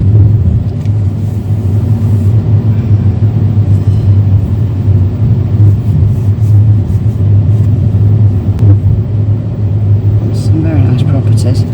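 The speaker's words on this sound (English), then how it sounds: "Sightseeing bus coming. Sightseeing the bus, Algarve sightseeing bus." An Algarve sightseeing bus rumbles past close by with a steady, loud engine drone and road noise throughout, while a person talks over it.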